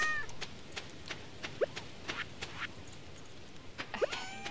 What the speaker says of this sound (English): I have a pet cat in this game.